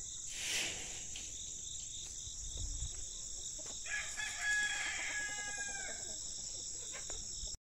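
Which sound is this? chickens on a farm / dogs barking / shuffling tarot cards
chickens on a farm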